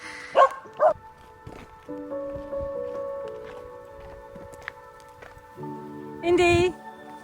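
A small dog gives a couple of short barks near the start and a louder yelping burst toward the end, with a person talking softly in between.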